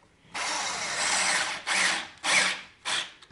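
A power screwdriver drives screws into wooden door trim, a loud buzzing whir held for over a second, then three shorter bursts as the screw seats, close up with no talking.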